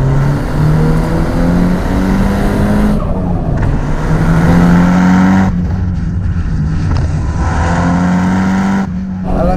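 A Nissan Silvia S15 Spec R engine revs loudly and climbs through the gears as the car is driven hard. The pitch rises steadily, dips at each shift, then climbs again, close and dominant throughout.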